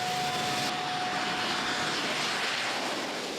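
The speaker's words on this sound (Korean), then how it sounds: "어떤 공항보다 활주로가 짧아 뒤뚱뒤뚱 착륙을 시도하는 비행기." A fixed-wing airplane lands on a very short island runway in Tuvalu, its jet-engine roar steady, loud and close throughout with no pauses.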